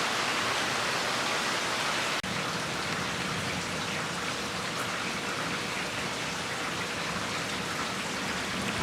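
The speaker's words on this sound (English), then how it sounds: "it's raining pretty good over that way" Steady rain falls outdoors as heard from a weatherdeck, a dense continuous hiss of drops on surfaces with a single brief knock partway through.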